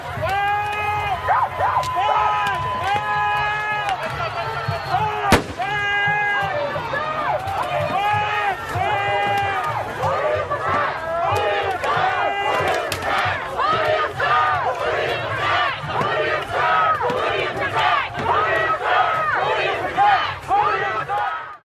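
A riot crowd throwing rocks and bottles at officers, a dense roar of shouting and yelling voices, loud and continuous, with a sharp impact crack and scattered thuds in the chaos.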